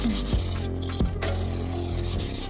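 An electric power planer blade being sharpened by hand, giving a steady abrasive rubbing and rasping close up, with a few sharper knocks as the blade shifts.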